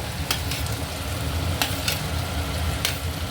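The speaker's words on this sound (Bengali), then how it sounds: "মশলাটা আমার প্রায় কষা হয়ে গেছে এবার ফুলকপিগুলো দিয়ে দেবো" Cauliflower florets frying in a pan of spice paste, a steady close sizzle with a few brief sharp clicks of stirring, no talk.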